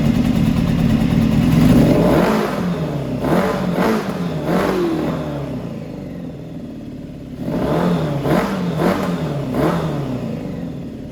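A 600cc engine fitted in a Power Wheels ride-on car revs up and down repeatedly on a test drive, with loud, close, rising and falling engine pulses and no talking.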